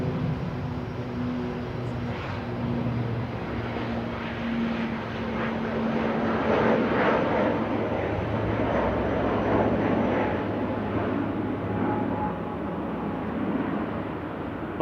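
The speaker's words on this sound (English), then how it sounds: "Not so noisy prop departing there to Belfast with flight 3611." A propeller airliner departs Manchester Airport for Belfast, its steady engine drone holding at moderate distance for about fifteen seconds, with no voices.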